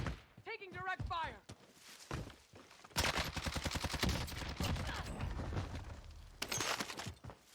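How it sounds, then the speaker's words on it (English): Gunfire in the video game Call of Duty: Warzone, with bursts of rapid automatic shots and sharp single cracks over about seven seconds, loud and close, mixed with game effects and brief talk. "Taking direct fire."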